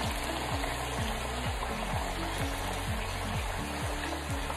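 Fries sizzle in hot grease, a dense, steady bubbling crackle that holds at an even level throughout, with a repeating mechanical hum underneath and no voices.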